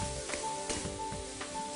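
Peppers softening in hot pan fat over medium heat give a steady, close sizzle with small crackles and pops, heard on its own.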